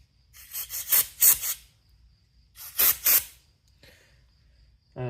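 Aerosol carb or brake cleaner sprays in short hissing bursts near a garage generator repair, two quick blasts, then another pair, then a faint puff, close and loud.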